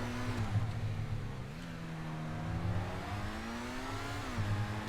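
Truffade S80RR supercar from GTA 5 drives with a steady engine note that rises and falls through gear changes, sustained and fairly close, with no talking.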